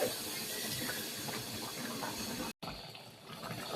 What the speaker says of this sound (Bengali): আর ভাতও প্রায় বলক চলে আসছে